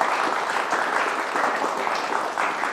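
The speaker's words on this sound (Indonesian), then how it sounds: "Tepuk tangan teman-teman buat BHS" An audience claps in sustained, even applause for BHS at a public discussion event about sound horeg, a dense steady patter of many hands close by with no talking over it.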